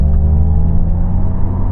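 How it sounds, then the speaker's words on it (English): MG Cyberster electric open-top sports car accelerating hard from 40 mph toward 70, a steady loud interior whir and road rumble that holds level throughout with no voices. "We're going to see the pickup on this car to 70."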